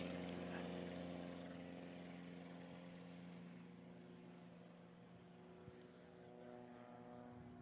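A STOL light aircraft takes off at a Rocky Mountain STOL competition, its propeller engine drone steady and strong with a fixed hum, gradually easing slightly, with no clear talking.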